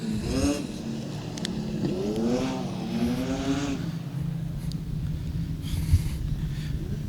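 Production sedan race cars at a circuit race, engines revving and rising in pitch as they accelerate past one after another, loud and close, with a steady engine drone between the passes.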